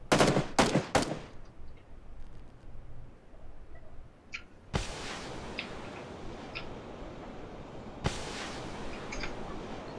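Gunfire in PUBG Battlegrounds during a squad match: a few sharp, loud close shots at the start, then two long bursts of sustained distant-sounding fire with scattered single cracks between.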